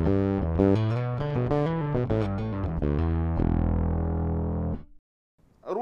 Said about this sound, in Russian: Добавить его прямо до конца и сделать практически фуз